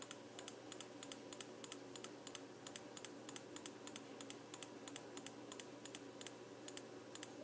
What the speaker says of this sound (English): So you do that by right clicking the squares out